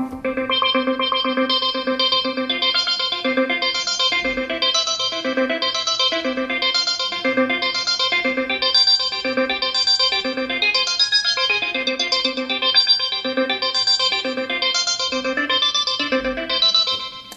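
Synth notes from the Launchpad app played with the octave button, bright layered electronic tones with chorus-like effects jumping between registers in a steady rhythmic pattern, loud and continuous with no talking.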